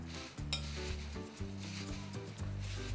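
Hot tempering of peanuts, oil, asafoetida, curry leaves and green chillies poured over dadpe poha gives a close, steady sizzle with faint clinks of a pan and spoon and a low hum underneath.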